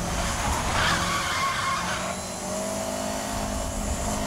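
Cars racing and skidding in Need For Speed: Most Wanted, a loud continuous roar of engines with tire screech sweeping through the middle, steady throughout with no talk.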